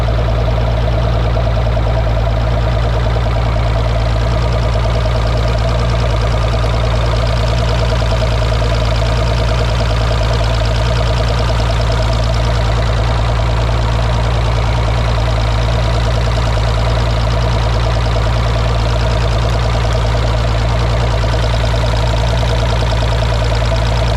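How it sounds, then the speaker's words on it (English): A Mercury Optimax outboard engine runs steadily with a constant low hum and mechanical knock, close and continuous, with no voices. "I'll insert a video of the engine running and you can see the oil flow"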